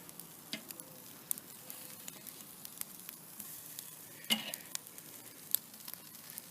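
Steaks sizzle steadily on a grill as tongs flip them, a soft, continuous frying hiss broken by small ticks and pops, with one brief louder scrape.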